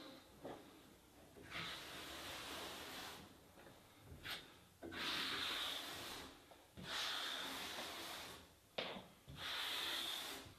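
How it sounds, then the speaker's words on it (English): A grout float scrapes diagonally across tiles to remove excess epoxy grout, making raspy rubbing strokes in repeated bursts with short pauses between, close and fairly quiet. "you're getting any excess off with the float diagonally, so you're not pulling it out the joints"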